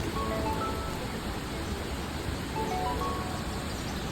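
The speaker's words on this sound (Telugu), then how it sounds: "వితిన్ సెకండ్స్లో వర్షం అయితే ఫుల్ స్టార్ట్ అయింది" Rain starting to pour in green forest near Athirappilly waterfalls, a faint, even hiss of falling water with no voices, steady throughout.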